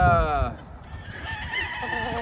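A rooster crows once, a loud, near harmonic call that fades into quieter farmyard clucking and faint background voices.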